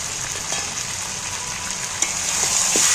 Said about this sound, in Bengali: লঙ্কাগুলো দিয়ে আমি নাড়াচাড়া করতে রয়েছি